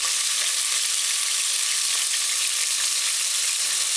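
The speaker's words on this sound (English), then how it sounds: "Now you add your chicken strips to the heating oil." Chicken strips fry in heated oil in a pan, a close, loud, continuous hiss of sizzling with no talking.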